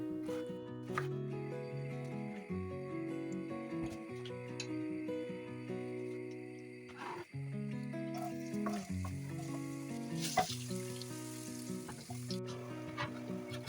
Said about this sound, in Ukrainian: Дві цибулини середнього розміру нарізаю кубиками та підсмажую на сковорідці з додаванням олії.